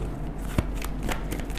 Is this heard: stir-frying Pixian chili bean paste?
no